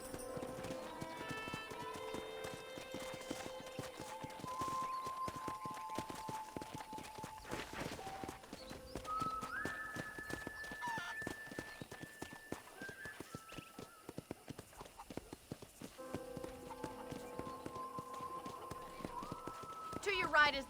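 Horse hooves clip-clop steadily in Red Dead Redemption on PlayStation 5 as a rider is led around a ranch property, with a musical score and a voice talking over the walking rhythm.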